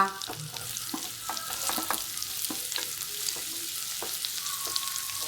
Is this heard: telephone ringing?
no